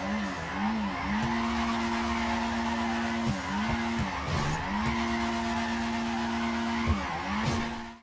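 A car in GTA 5 spins drifting donuts with sustained tire squeal in long, wavering tonal stretches broken by short gaps, over engine roar and a narrator's voice.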